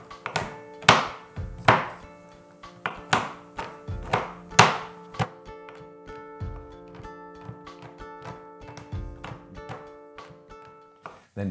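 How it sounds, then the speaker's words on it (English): A knife chopping bittersweet chocolate bars on a board, with a run of crisp, sharp thunks that come in bursts and then thin out into lighter taps, close up, with no voices. "And finally, chop the chocolate."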